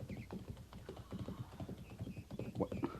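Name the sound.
horse hooves as he rides back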